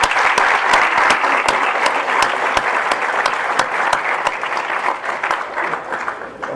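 Sustained, loud applause from the crowd at a high-school fall sports awards night, with dense, even clapping and sharp individual claps standing out throughout.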